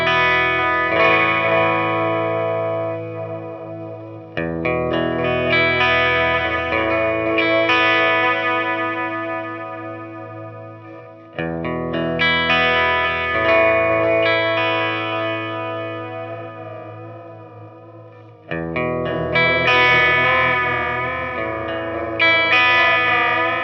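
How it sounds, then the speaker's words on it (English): Electric guitar played through a Mr. Black Dark Echo delay pedal, sustained chords blooming into dark, modulated repeats with heavy wash, struck afresh in four phrases and ringing alone. "The Dark Echo can be operated as a straight dark delay with the sway at zero or fully counterclockwise"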